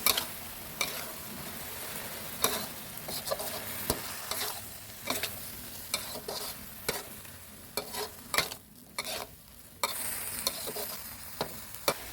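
Beef stir-fried in a hot pan with dried chili, kaffir lime leaves and sour bamboo shoots, an ongoing sizzle broken by repeated sharp scraping strokes of the spatula, close and clear, no speech.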